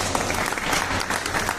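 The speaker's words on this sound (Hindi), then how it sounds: "अपने देश के लिए ताली तो होनी चाहिए।" Loud, continuous applause from the audience at a yoga teachers' honouring ceremony in India, with many people clapping densely and close by for the whole moment.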